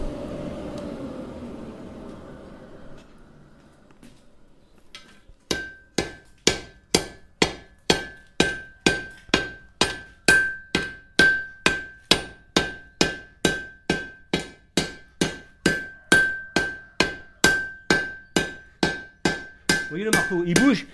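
Hammer striking an iron bar at an art blacksmith's forge, a long run of evenly spaced, ringing metallic blows with a sustained tone, loud and close, after a few seconds of quieter background.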